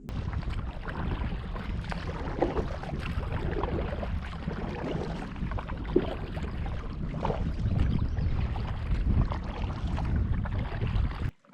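Canoe paddling on a wilderness lake during a solo trip, a continuous wash of water and wind with soft, irregular paddle swishes, no voices.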